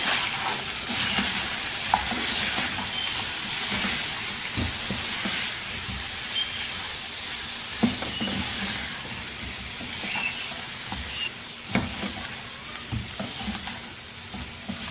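Chicken karahi with tomatoes cooks in a pan while a spoon stirs it steadily, scraping and clinking through a continuous close sizzle for the whole stretch, with no talking.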